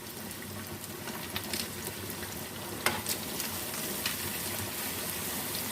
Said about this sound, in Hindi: प्याज को हम फ्राई कर लेते हैं।